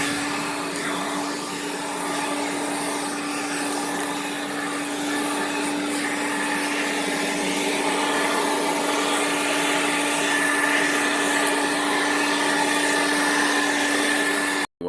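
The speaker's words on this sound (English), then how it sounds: "And what good is a leaf blower on high speed without blowing leaves?" A NASUM 40V cordless leaf blower, model YT7805-01 with a brushless motor, runs on high speed blowing leaves outdoors, a steady loud whooshing drone with a constant tonal whine that continues unbroken and then cuts off abruptly at the end.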